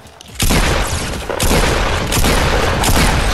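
A sudden loud burst of rapid gunfire in Fortnite erupts after a brief quiet moment and continues heavily, booming and crackling without a break.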